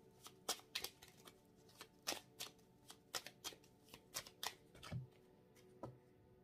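Tarot cards being shuffled by hand for a reading: soft, close, irregular riffles and flicks in quick bursts against a quiet background.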